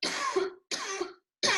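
A person coughs in three close bursts, each a harsh, broadband rasp that cuts off sharply, the last clipped short; loud and near, with no talk around it.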